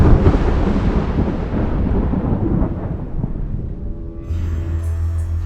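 Thunder from lightning over Bajarmara village in Namkum block near Ranchi, Jharkhand: a loud, continuous rolling rumble that slowly fades, leaving a steady low hum at the end, with no voices.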